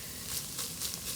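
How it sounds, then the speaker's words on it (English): Food sizzles in a pan in an RV kitchen. A soft, steady frying hiss with faint crackles runs alone and quietly through the short moment. "I love that sizzling sound"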